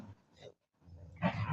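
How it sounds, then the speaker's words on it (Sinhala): A dog growls low and rumbling at close range in short bursts, with a brief silent gap before a louder, harsher growl. "ගොරවන්න එපා ලැසි."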